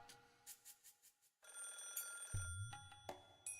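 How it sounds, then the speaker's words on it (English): A telephone rings repeatedly in the Higurashi visual novel, with a short burst of electronic ringing followed by a low thud and renewed rings, close and clear with no talk. "As soon as I put the phone down, it rang again."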